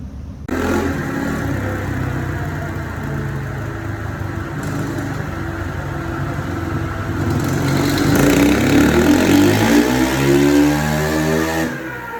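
A Honda CRF 450 motorcycle (2017 model) with its stock OEM exhaust runs close by, holding a steady idle and then revving higher and louder before dropping off abruptly.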